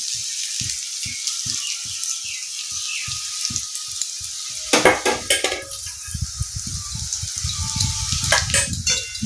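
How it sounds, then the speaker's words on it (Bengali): Rhythmic clinks of a utensil against a pan, then a burst of crackling sizzle as egg hits hot oil, close and fairly loud. "আমি এবারে ডিম ভাজা করে দিয়ে দেবো"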